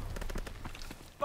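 Rapid gunfire in the World War II shooter Call of Duty WW2, a dense burst of shots at moderate distance, with a voice calling out over it and a sharp louder hit at the very end.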